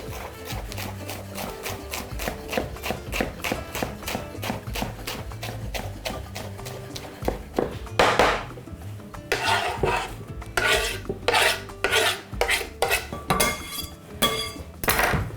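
Knife chops lettuce leaves into strips on a board in a home kitchen while chicken breast in cream sauce is being made, giving a steady run of quick, crisp taps that turn louder and more irregular later.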